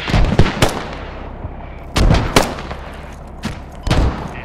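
Mortar rounds in the Squad military shooter, set in a large combined-arms battle in Afghanistan: a series of heavy, booming impacts in irregular pairs, loud and close, with rumbling tails between blasts and no speech.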